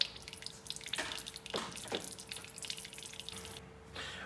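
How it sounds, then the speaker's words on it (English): Black engine oil drips and trickles from the drain of a Ford 3.5L EcoBoost during an oil change, a few separate close plinks over a faint steady liquid hiss. "you're going to let it start dripping out like that"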